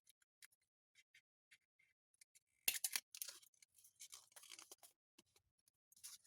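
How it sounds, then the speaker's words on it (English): Scissors snip through junk-mail paper to cut a small tag, with scattered quiet single snips and then a denser run of crisp cuts, close and faint in an otherwise silent room. "So I'm going to just use this as a template to cut out the next one."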